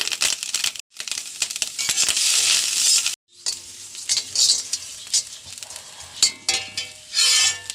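Coconut, garlic and fenugreek roast in a pan, giving bursts of loud crackling, rustling and stirring scrapes with short pauses between them. The sound is close and steady and has no talking over it.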